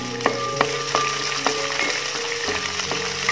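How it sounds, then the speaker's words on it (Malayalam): About 200 g of chopped small onions (shallots) sizzle in a pan for a Kerala-style masala fish curry, a continuous near frying hiss broken by regular spoon taps and stirring knocks. "ഇനി അതിലോട്ട് ഒരു 200 ഗ്രാം ചെറിയ ഉള്ളി ചെറുതാക്കി കട്ട് ചെയ്ത് ചേർത്ത് കൊടുക്കും."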